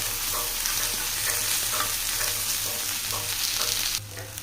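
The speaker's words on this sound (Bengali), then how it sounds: "দেখতেই পাচ্ছি আমার পটলগুলো কিন্তু ভাজা হয়ে গেছে" Pointed gourd (potol) frying hard in oil in a pan, a dense continuous sizzle close by with occasional stirring scrapes, until the sizzle drops away abruptly near the end; no one speaks.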